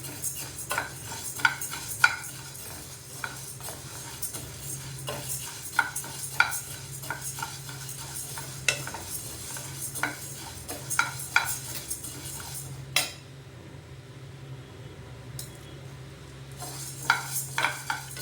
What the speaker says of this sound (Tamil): அதே மாதிரி தான் எண்ணெய் ஊற்றாமல் வறுக்கணும்.